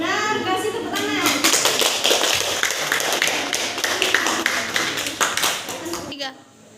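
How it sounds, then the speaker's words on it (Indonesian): Classmates clap for a correct answer in a lesson on processing learning scores, a dense burst of hand claps that fades out near the end, with some voices mixed in. "Jawaban yang benar, kasih tepuk tangan"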